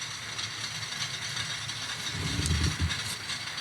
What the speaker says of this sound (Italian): sulla vaporiera scaldiamo un po' l'acqua, esce il vapore